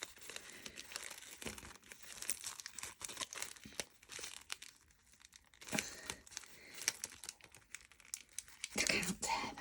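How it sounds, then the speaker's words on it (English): Parchment-paper sandwich bag crinkling and tearing up close in bursts, a crisp papery rustle with small rips, with a soft voice talking between them. "I can't tear that bit. Must be the seam in the bag."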